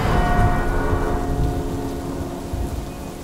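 Thunder rumbles low and heavy over a steady wash of pouring rain, the rumble slowly fading while the rain continues.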